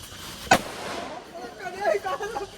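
One sharp Diwali firecracker bang cracks out nearby, followed by a fading rumble and excited voices.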